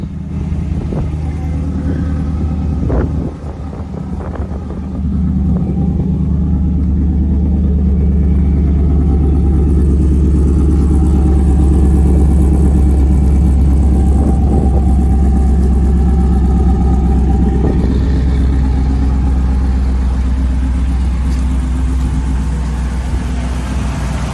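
A cammed Ram Hemi pickup V8 runs after an oil change, a loud deep lumpy idle rumbling steadily and close for the whole stretch, with a brief dip early on.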